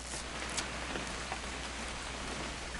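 Steady video game rainfall hissing evenly, a soft continuous wash with occasional faint drips, no voices. From What Remains of Edith Finch.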